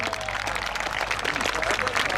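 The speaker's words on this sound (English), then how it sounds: "Give them a big round of applause as they make their way into land" Dense, steady applause from a large outdoor airshow crowd greeting a parachute display team as it comes in to land, a continuous wash of many hands clapping with a low hum underneath.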